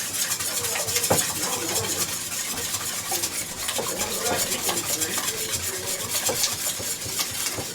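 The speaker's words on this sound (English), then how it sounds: "And it says to whisk those together first before doing anything else." Eggs and half and half are whisked briskly in a bowl for quiche, a rapid continuous clinking and swishing of the whisk against the sides, close and steady with no talk.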